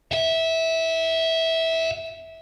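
A heavily distorted electric guitar rings out a single pinch harmonic, a bright sustained squealing tone held for nearly two seconds before dropping off abruptly, with no talking.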